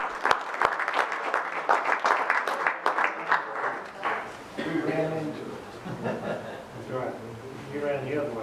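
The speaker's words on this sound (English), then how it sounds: "So let's give Mr. Dave Jennings a round of applause as well" A seated audience at a tribal council meeting applauds for several seconds, steady dense clapping near and loud, then fading as voices and laughter take over the room.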